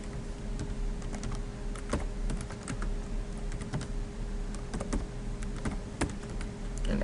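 A password being typed on a computer keyboard: steady, close clicking of keys in quick irregular runs for several seconds over a faint constant hum, with no talking.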